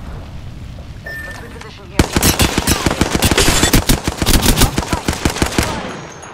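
Rapid automatic gunfire in a video game firefight, with loud close bursts of shots coming in quick trains after a quieter start, mixed with game sounds and a player's voice.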